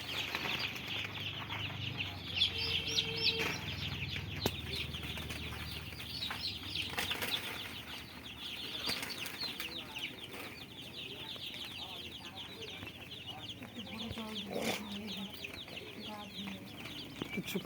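Fifty desi chicken chicks settle in a brooding pen, peeping constantly in a busy, overlapping chorus of high chirps, while a low voice murmurs faintly at times in the background.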